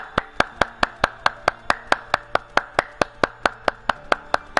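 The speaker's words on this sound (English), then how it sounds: "I'm clapping my hands." Sharp, evenly spaced hand claps, about four per second and loud at close range, ring out alone for several seconds while a player is in a Final Fantasy XIV session.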